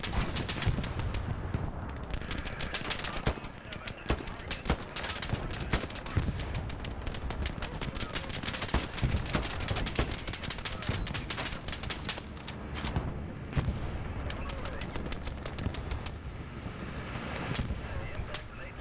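Scattered gunfire from a distant shooter in the Hell Let Loose video game, rapid crackling shots over a constant noisy battlefield rumble, with voices speaking now and then.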